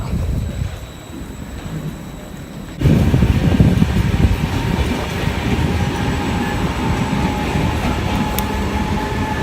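The Pisa Mover airport people mover train rumbles up loudly after a quiet start, then rolls steadily with a low continuous roar and faint rail hum, close by.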